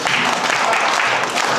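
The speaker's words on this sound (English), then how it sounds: "So clap for me as your teacher now." A short burst of applause from schoolchildren in a classroom, many hands clapping together steadily and fairly loudly with no pauses.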